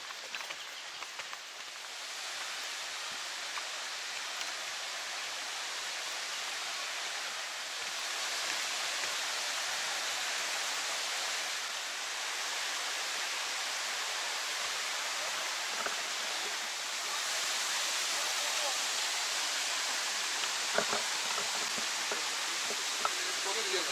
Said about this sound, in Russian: Вот подходим к водопаду.